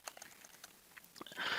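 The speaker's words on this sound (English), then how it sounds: "So I just typed a bunch of stuff." Quiet, irregular clicks of fingers typing on a computer keyboard, with a denser burst of keystrokes toward the end.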